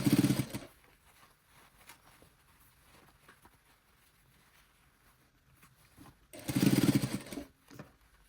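Sewing machine stitching a stiff cotton shirt yoke with the shoulder tucked inside, heard as two short, loud buzzing runs near the start and end with quieter handling between.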